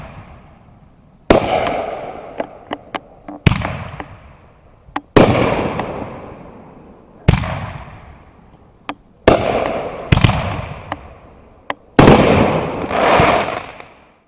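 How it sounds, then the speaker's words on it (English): Ring-shaped aerial fireworks go off in a string of about eight sharp booms, each loud crack trailing into a long crackling, fading decay before the next burst, with a few small pops between. "The explosion creates a circle of colored lights in the shape of a ring."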